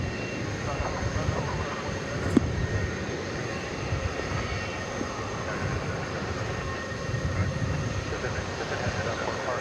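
An Airbus A320 airliner at DFW Airport at night gives off a steady, distant jet roar that holds evenly throughout, with one brief click partway through.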